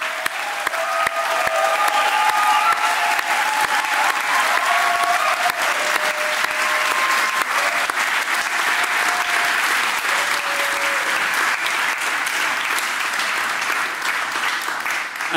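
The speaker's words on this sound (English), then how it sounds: "A round of applause for our graduates." A graduation crowd at a theology school ceremony claps steadily and loudly in a large hall, a dense sustained applause with a few cheers, fading slightly toward the end.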